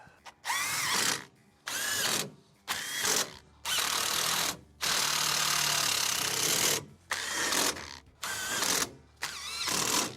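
Bursts of a power tool or ratchet driving bolts home during repair of a crashed BMW 2 Series, several loud runs of a few seconds each separated by short pauses, close up with no talking.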